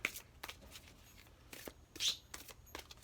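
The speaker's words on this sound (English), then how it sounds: "And then I'm just going to give them a shuffle this way" A deck of oracle cards being shuffled by hand, a few soft riffling bursts with short gaps between them, close and quiet with no talking.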